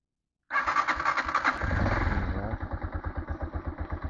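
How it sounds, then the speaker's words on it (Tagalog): A Honda TMX motorcycle engine fires up after valve clearance adjustment, cranking briefly then settling into a rhythmic, close single-cylinder idle that pulses steadily. "Ayan, pakinggan yung makina."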